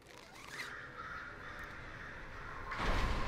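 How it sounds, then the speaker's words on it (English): A crow cawing in the video game Batman: Arkham Asylum, a harsh drawn-out caw over dark ambient noise, with a louder rasping burst near the end. "It's the crow that scares people."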